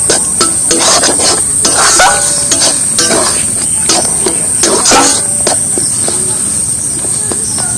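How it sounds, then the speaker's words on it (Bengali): A wok of jackfruit seed mixture is stirred continuously, with loud, steady scraping and clinking of a utensil against the metal pan in a rapid, uneven rhythm, close up and without talk. "আর শুধু কড়ার মধ্যে কিন্তু এটা নাড়িয়ে নেবো"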